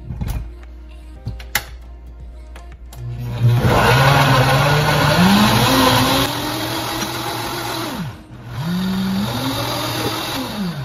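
Kitchen blender grinding green pozole ingredients, pumpkin seeds, herbs and water: a few soft clicks, then a loud motor whir that rises and falls in pitch, dips briefly, and starts again.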